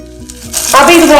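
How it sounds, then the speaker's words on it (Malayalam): Green chillies frying in a pan, eight of them tossed into hot oil for a tomato and chilli side dish; a quiet start gives way to a loud, steady crackling sizzle that swells and continues to the end. "അപ്പൊ പച്ചമുളക് ഇതിൽ കിടന്ന് ഒന്ന് നന്നായിട്ടൊന്ന് ഫ്രൈ ആയി വരണം"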